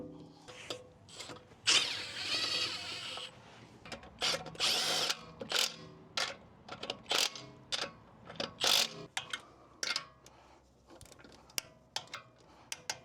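Milwaukee M12 stubby 3/8-inch impact wrench (2562-20) removing lug nuts from car wheels, giving repeated short whirring and hammering bursts with ratcheting clicks in between, close and fairly loud, no talk.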